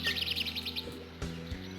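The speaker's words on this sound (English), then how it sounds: "And the birds chirping." Birds chirp in a quick series of bright, repeated tweets during the first second, sitting over a low, smooth musical tune inside the Alone in the Dark video game, with the music carrying on after the calls fade.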